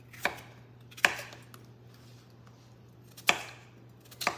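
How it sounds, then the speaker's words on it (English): A knife dicing potatoes for scalloped potatoes on a cutting board, four sharp separate chops spaced irregularly over a low steady hum. "I'm just dicing them."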